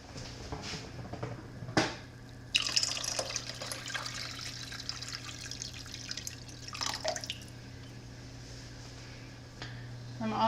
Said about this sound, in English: I'm just gonna fill this pie jar with water.